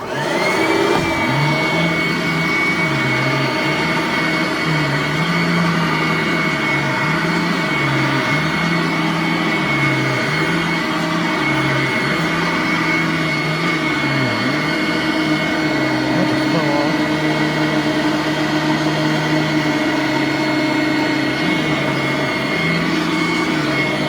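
A Supralite vacuum cleaner runs loud and close without pause, its steady whining motor roar carrying a high whistle and a low tone that wavers rhythmically as the machine moves.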